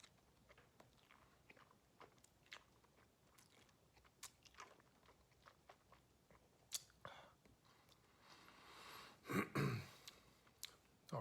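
Mouth chewing and smacking while tasting Elijah Craig 12-year-old Small Batch bourbon whiskey, a run of soft wet clicks and smacks that swells into a louder, fuller burst near the end, with no voices.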